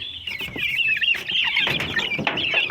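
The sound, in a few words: poultry chicks clucking, Silkie and turkey chicks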